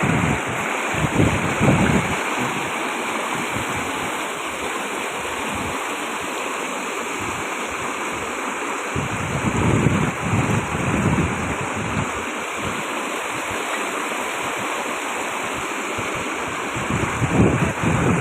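A fast-flowing freshwater drainage channel pours toward the sea in a continuous, loud rushing hiss, with brief surges of deeper churning now and then, no voices over it.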